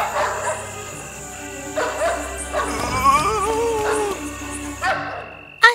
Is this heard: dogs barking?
yes